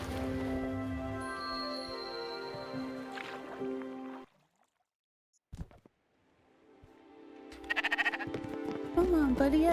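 Sheep in the video game Spiritfarer give drawn-out, wavering bleats, clear and moderately close, with a quiet pause partway through before more bleating returns.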